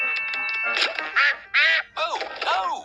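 A cartoon duck gives a string of bright, nasal quacks, first several quick short calls, then three longer, drawn-out squawks separated by brief pauses, loud and close.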